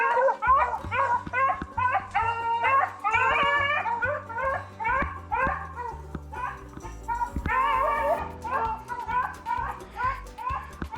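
Hunting dogs out running hare bark, yip and whimper in a busy, overlapping chorus close by, with short high cries repeating steadily throughout.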